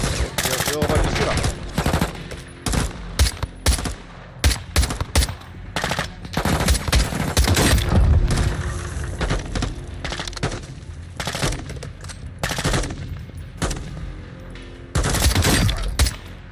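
Rooftop sniper engagement in Call of Duty Modern Warfare II: loud, repeated sharp gunshot cracks and rapid bursts of fire throughout, with booming impacts and brief voices under the shooting.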